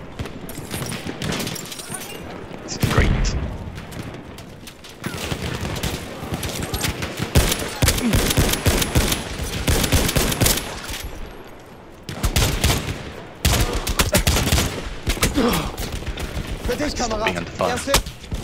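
Battlefield 1 gameplay with dense bursts of gunfire, single sniper-style cracks and distant explosions rolling through a loud battle soundscape, while a player talks over the action.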